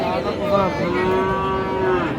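A bull calf of Friesian or cross breed moos at the Raniganj cattle market, a single drawn-out, tonal call lasting about two seconds over a low background murmur.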